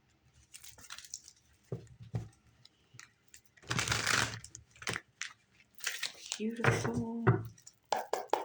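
Papery riffling and crisp shuffling bursts of cards, repeated in short bouts between pauses, with a voice talking intermittently.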